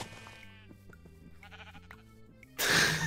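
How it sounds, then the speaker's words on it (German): Sheep in the Minecraft video game bleat repeatedly while being sheared, with clear, mid-level, game-style calls over soft background music, ending in a louder burst of noisy sound. "Ich bin hier gerade am Schafe scheren."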